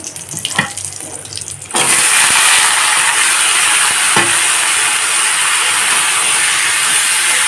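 Vegetables tipped into a hot pan with lightly fried bori, a quieter rustle giving way to a sudden loud, sustained hiss of sizzling that stays close and steady, with one brief clatter midway.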